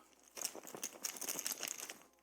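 Economic marker pieces from a Stellar Horizons board game rattle and rustle as they are shaken around inside a cloth bag, a busy, close crinkling shuffle lasting a couple of seconds.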